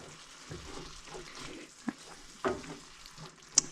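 Spices and tomatoes for shakshuka sizzle softly in a pan while being swished around, with a low steady frying hiss and a few brief clinks and scrapes, fairly quiet and close.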